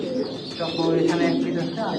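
Racing pigeons coo softly nearby in a loft in low, rolling calls, with a faint chirp or two and a murmur of talk underneath.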